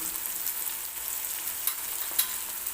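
A pan of chickpea curry sizzles steadily while dry spices such as turmeric, coriander and cumin powder are stirred in, with a couple of soft utensil clicks over the even frying hiss.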